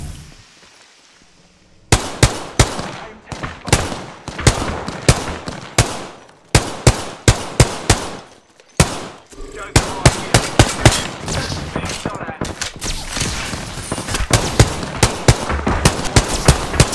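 Shotgun and other gunfire in Apex Legends: after a quiet opening, a dense run of loud, sharp blasts and rapid cracks keeps going to the end, some single heavy booms and some quick clusters.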